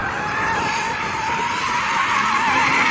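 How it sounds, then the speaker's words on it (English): Tires of a four-wheel-drive, rear-biased BMW M240 squeal in a sustained, loud skid as the car drifts, the screech holding steady over engine rumble for about three seconds. "see if you can drift that, because that's 4-wheel drive, although it is rear drive bias"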